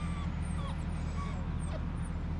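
Puppies whimper and yip faintly against a constant low outdoor rumble, probably from tree removal machinery, with thin high cries scattered through the background.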